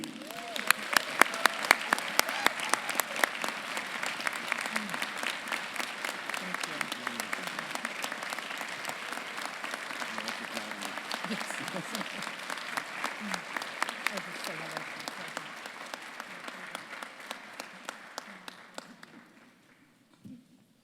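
A university Founders Day convocation audience claps in sustained, enthusiastic applause that holds steady for a long stretch, then gradually thins out and fades near the end.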